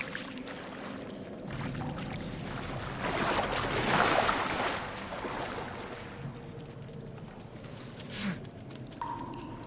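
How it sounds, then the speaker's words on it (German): A water bottle being refilled at a water source in the survival game Sons of the Forest, a gurgling pour that swells in the middle and then fades, fairly close, with no talking. "Können wir hier unsere Wasserflasche auffüllen?"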